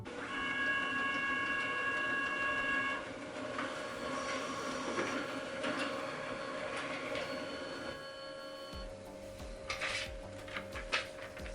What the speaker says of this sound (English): Just put the page in the scanner bed and then choose the number of copies you want and then press the start button.